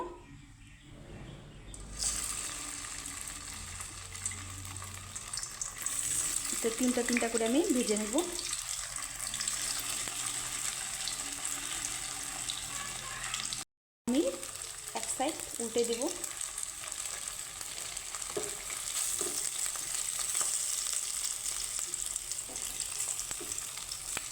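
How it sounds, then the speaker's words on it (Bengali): Ingredients frying in hot white oil in a kadai on a gas stove, a steady sizzle running throughout with stirring clatter in bursts and a brief dropout midway; a voice speaks at moments. "এখানে দিয়ে দিব আমি কড়াইতে সাদা তেল গ্যাসটাকে আমি অন করে দিয়েছি তেলটা গরম হয়ে গেছে"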